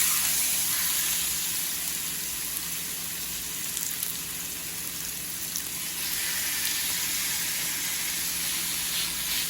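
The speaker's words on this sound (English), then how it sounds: "I'm gonna put these chicken breasts on and let them kind of cook up a little bit" A soft, steady sizzle and hiss of chicken breasts frying in oil continues throughout, fairly quiet and without voices.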